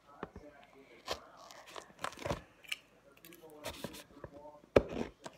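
Scissors and a poked tool cut a square hole into a paper tray for popcorn and drinks, giving sparse close crunching and tearing snips with short pauses, faint and close-up.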